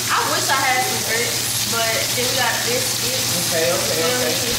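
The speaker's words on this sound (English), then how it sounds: "I can't hear you over this fucking bacon sizzling" Steady sizzling and crackling of bacon frying in a hot pan, continuous and fairly loud, with voices talking over it.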